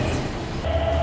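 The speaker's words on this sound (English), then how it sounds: "this is a cool train" Steady low rumble of a semi-express train in motion in Japan, with a constant mechanical hum and a brief rising tone near the end; no voices.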